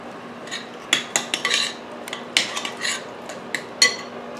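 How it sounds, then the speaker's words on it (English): Onion mixture for cabbage rolls being stirred in a bowl, with a run of light clinks and scrapes of a utensil against the bowl in an irregular rhythm, close by and moderately loud. "Stir that up."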